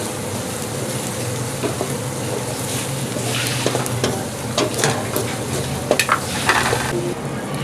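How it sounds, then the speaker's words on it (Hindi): Masala spices with turmeric frying in a pan for black chana chaat: a steady sizzle with ongoing stirring scrapes and a few metallic clinks, close and fairly loud, with no talking. "मसाले को भून लेंगे।"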